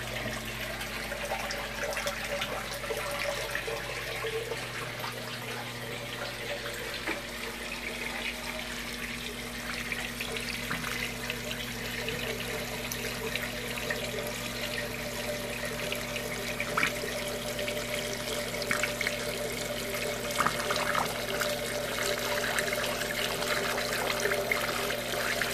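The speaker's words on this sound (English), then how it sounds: "looks like we're going through a flood and drain cycle here" Water drains from the spouts of an aquaponics system during its flood and drain cycle, a steady close splashing and trickling rush that continues without a break and with no talk.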